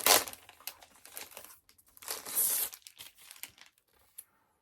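A comic book slides out of its plastic bag, giving bursts of crinkling, rustling plastic in several short bouts, close and fairly quiet, trailing off into silence.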